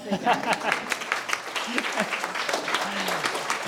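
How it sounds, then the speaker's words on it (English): An audience at a Bond Global talent-acquisition event applauds a speaker with moderately loud, rippling claps, while voices speak over the clapping throughout. "I was going to give you a round of applause first"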